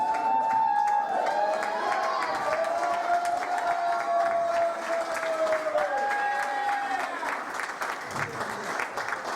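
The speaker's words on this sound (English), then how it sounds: "Come get yourself some claps" A crowd at a Tomahawk wrestling show claps and cheers steadily throughout, with shouts and whoops rising over continuous applause from a packed room.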